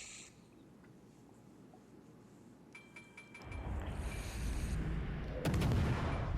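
Naval guns open fire in World of Warships, starting with quiet ambient sea noise, then a swelling roar and a sharp loud gun blast near the end.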